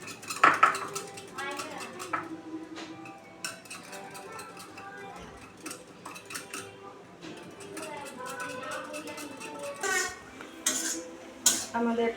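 Yogurt is stirred in a bowl for shahi paneer, with a spoon clinking and scraping in irregular bursts close by while a person talks over the kitchen sounds.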